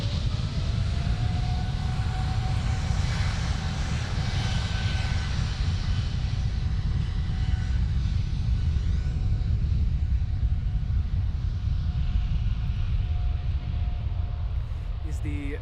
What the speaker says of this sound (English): The KLM 777-200, and that's going to San Francisco.